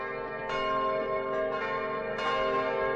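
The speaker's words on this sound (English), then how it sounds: "There's the bells." Church-style bells ring in the video game Kingdom New Lands, a sustained, resonant tolling with fresh strikes roughly every second layered over steady droning tones, loud and alone with no talk.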